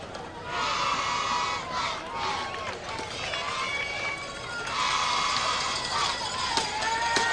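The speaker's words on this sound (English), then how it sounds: "But they're clapping on the Raider side" A football crowd at a high school state championship game claps and cheers on the Raider side, a continuous roar of many voices and hands, with a commentator talking over it.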